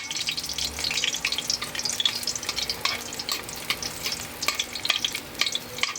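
Onions frying in a pan for a Filipino pork dish, a steady crackling sizzle with scraping stirring strokes and clinks throughout, close and fairly loud.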